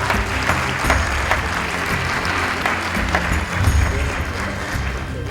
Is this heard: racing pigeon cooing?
no